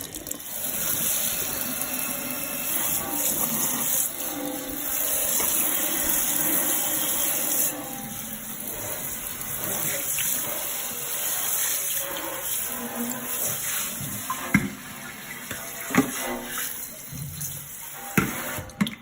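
Tap water runs continuously into a kitchen sink during rinsing, a steady hiss and splash at moderate level, with a few knocks and clatters near the end.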